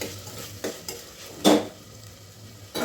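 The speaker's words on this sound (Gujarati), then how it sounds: "કેપ્સિકમ કોબીજ ડુંગળી લસણ આદુ મરચાં બટાટા ટમેટાં બધું આપણે હવે આમાં મિક્સ કરી દેશું" Capsicum, cabbage, onion, garlic, ginger, chilli, potato and tomato are stirred in a frying pan for vegetable noodles. A soft sizzle runs under intermittent utensil scrapes, with one louder scrape in the middle and another at the end.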